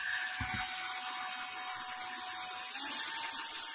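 A Norvise fly tying bobbin spins at high speed in a loosely held hand, giving a steady, thin high-pitched whir like a small electric motor, with a brief low thump near the start.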